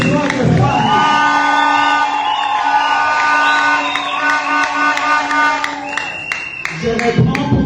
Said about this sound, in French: elle résonne la somme des acclamations des hommes et les cris de joie des femmes